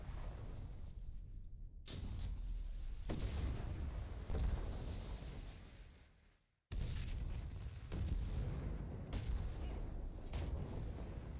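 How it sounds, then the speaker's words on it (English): Magic cannons in World of Warcraft Legion fire unmanned in a game instance, a series of heavy booming blasts with rumbling tails, one falling away into near silence before the barrage resumes, loud and continuous. "you can actually see the cannons firing off even though there's no one working the cannons"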